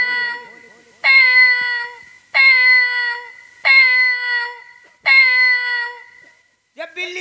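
A comedy Ramlila performer vocally imitates a cat, giving five loud, drawn-out meows at a steady pace, each followed by a brief pause, with a short cry at the end.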